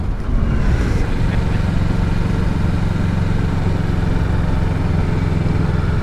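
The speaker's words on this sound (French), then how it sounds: "Des gros vélos avec des moteurs." A motorcycle rides along a forest road, its engine droning loud and steady from close by throughout, with a rougher burst near the start before settling into a constant hum.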